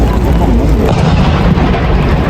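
A cannon firing blanks, with only powder and no projectile, produces a loud, continuous broadband rumble that stays dense and booming from start to finish.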